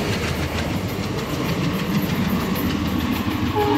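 A WDM diesel locomotive hauls the Tirupati–Puri Express past a station platform, a loud, steady roar of engine and rolling wagons with continuous rail clatter filling the whole stretch, close by and without talk.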